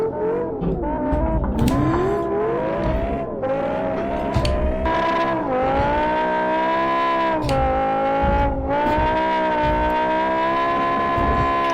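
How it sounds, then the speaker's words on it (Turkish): BMW M5 E60 in the Live for Speed racing game skids with sustained, warbling tire squeals over a loud revving engine, close and continuous, with no talk. "Çok attı araba."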